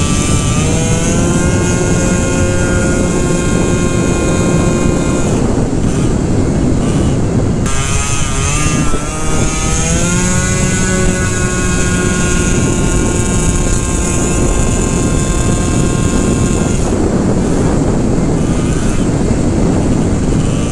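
A 120cc Honda Elite moped engine roars loudly and continuously with shifting revs as it is ridden, with wind rushing past.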